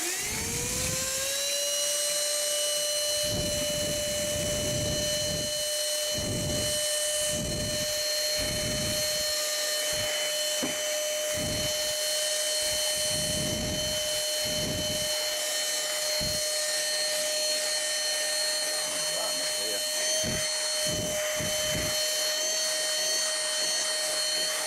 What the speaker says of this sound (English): And it vacuumed up the biscuit.